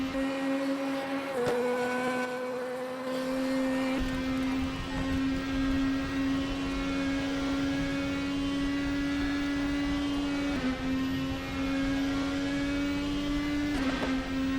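A steady, droning race car engine in the sim racing game RaceRoom Racing Experience, lapping Road Atlanta in out-of-car view, holding a high pitch with brief dips as gears shift, continuous and loud with no talking.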